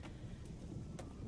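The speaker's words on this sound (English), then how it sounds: "So let's enjoy the storm a moment." A thunderstorm in the Diablo 4 video game rumbles as a dull, continuous wash of rain and distant thunder, with a few faint crackling bursts over a short stretch and no voices.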